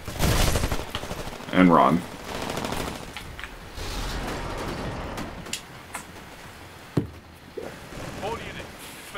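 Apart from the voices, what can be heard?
gunfire in Titanfall, video game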